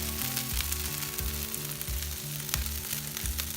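Kung Pao chicken frying on an outdoor griddle: a steady, close sizzle with crackling spatter throughout, over a low, rhythmically pulsing hum.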